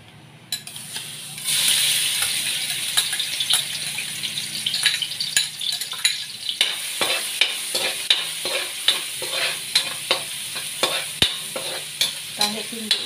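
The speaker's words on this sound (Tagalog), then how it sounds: "Nagigisa ako una ng bawang." Garlic sautés in a pan for Filipino monggo, a sizzle with repeated sharp scraping stirs that fall into a regular rhythm toward the end, close and fairly loud, with no voices.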